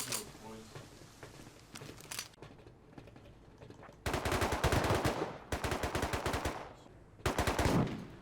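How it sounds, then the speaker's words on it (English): Pump shotgun blasts fire in the video game Rust on a busy server at an oil rig, heavy booming shots in bursts, quite loud and close, with faint talk and quieter game sounds before them. "Now I could tell pretty quickly just by the gunshots that it was a pump guy"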